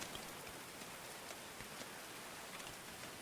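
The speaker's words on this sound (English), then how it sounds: "I've never actually noticed the rain falling off the roofs. That's a crazy amount of rain, though." Heavy rain on roofs in the medieval building game Going Medieval, a dense, even hiss of falling drops with faint patters, steady and quiet throughout with no talk.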